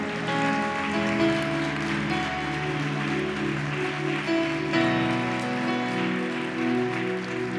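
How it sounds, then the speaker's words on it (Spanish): A church congregation applauds during a sermon, a continuous patter of many hands over sustained keyboard chords, steady and moderately loud throughout. "Fuerte el aplauso a mi Rey."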